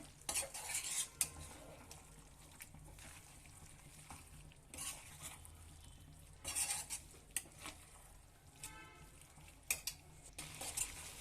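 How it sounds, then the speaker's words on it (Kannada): Chicken liver rice with coriander leaves being stirred in a pan, with faint scraping and clinking of a utensil against metal over a low sizzle, in intermittent strokes and without talk. "ಈಗ ಕೊತ್ತಂಬರಿ ಸೊಪ್ಪು ಹಾಕೊಂಡು ಇದನ್ನ ಚೆನ್ನಾಗಿ ಮಿಕ್ಸ್ ಮಾಡ್ಕೊಳ್ಳೋಣ"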